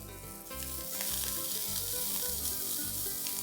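Onion, garlic paste and chopped ginger fry in a pan, giving a continuous close sizzle with soft crackling throughout and no voices.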